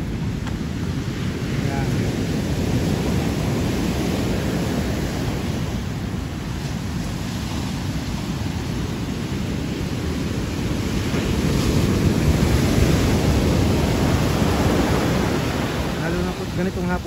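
Surf rolling onto a busy seashore on an afternoon, a steady broadband wash with gusting wind buffeting the microphone throughout, and someone talking over it.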